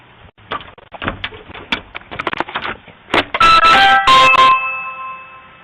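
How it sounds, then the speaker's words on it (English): A doorbell rings loudly and close by, a series of electronic chime tones near the end, preceded by several sharp knocks or clicks. "Did you ring the doorbell?"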